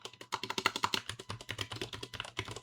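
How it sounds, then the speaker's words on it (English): Rapid typing on a computer keyboard, a steady run of close, crisp key taps with an uneven rhythm, heard on its own without any talk. "let me just type that out"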